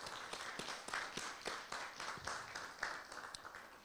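Faint, distant audience applause at an entertainment panel award moment, a thin patter of scattered claps from a modest crowd, brief and low in level.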